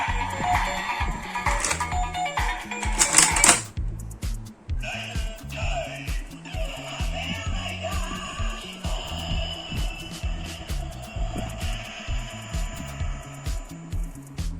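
A toy belt plays electronic sound effects: a burst of bright chimes and tones at the start, then a repeating pulsing jingle that loops steadily.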